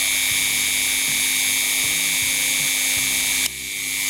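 A Dremel rotary tool whines steadily and loudly at high pitch while working on a Black Forest cuckoo clock part, with faint rhythmic knocks beneath and a small drop in pitch near the end.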